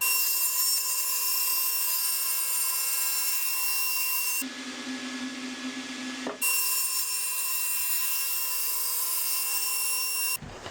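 A table saw trims rough edges off a sheet of plywood, its steady high whine running throughout and changing pitch for about two seconds as the blade passes through the wood, with no talk.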